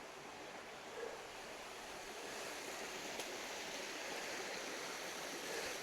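A river runs through a New Zealand forest at night on a cold 1°C evening, making a steady, even rush of flowing water with no voices or other clear sounds above it.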